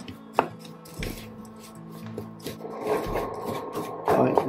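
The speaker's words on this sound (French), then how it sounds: "Je stoppe l'induction et je mélange pour faire masser le sucre autour du gruau." Cocoa nibs are stirred into sugar syrup cooked to 114°C in a pan with the induction heat switched off, giving close, repeated scraping and clinking strokes that grow busier toward the end.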